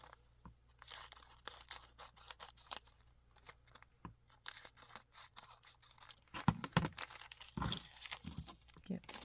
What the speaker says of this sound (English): So I'll just cut this open.